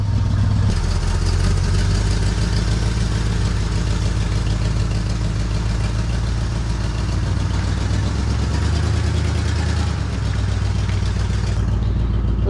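A 1976 Chevy Blazer Chalet's 400 V8 runs steadily at idle, a loud, continuous low rumble with some mechanical clatter and no talking.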